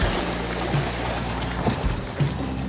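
Water pours into a pot of potato curry as a steady, close splashing and gurgling stream, moderately loud, with no speech.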